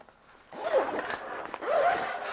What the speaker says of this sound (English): So you just zip that in here,